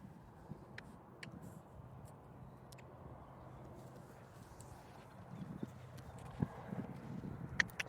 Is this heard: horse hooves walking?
yes